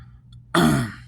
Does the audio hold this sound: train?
no